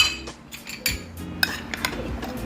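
A utensil stirring flour into beef in a pan, with a quick run of metallic clinks and scrapes against the pan, close and uneven, with no talking.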